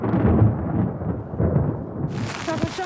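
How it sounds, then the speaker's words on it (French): Deep rumbling thunder from an approaching storm in the Pyrenees mountains, a long low roll that swells and fades, followed by a brief burst of wind or rain noise near the end. "L'orage qui arrive"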